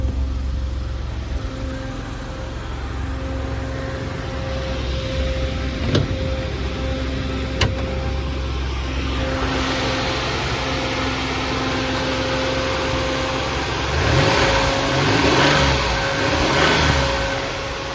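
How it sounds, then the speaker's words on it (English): A warmed-up Maserati Ghibli GT idles at around 850 to 900 RPM, a steady low engine hum and exhaust rumble with a faint tonal whine, picked up close by, with a few soft clicks and a slight swell near the end. "And here's how the engine sounds."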